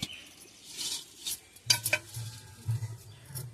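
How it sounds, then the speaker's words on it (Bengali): A little oil is spread around a hot cooking pot before chicken goes in. Quiet metallic scraping and stirring strokes come with a faint sizzle, in short separate bursts. "হাঁড়ির ভিতরে অল্প একটু তেল ঢেলে হাঁড়িটাকে মাখিয়ে নেবো"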